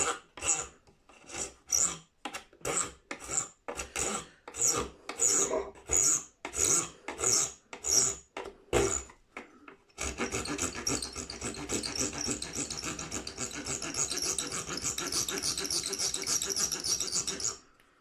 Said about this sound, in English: This is one of my newer tools, a razor file.